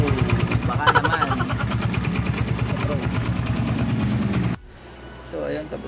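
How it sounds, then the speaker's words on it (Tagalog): A Yamaha Mio Sporty motorcycle with a 59 big-valve engine and a Replica Pro exhaust pipe runs loudly nearby with a brief rev early on, then its sound drops abruptly to a much quieter level. "tapos natin sound test yung ating Replica Pro pipe"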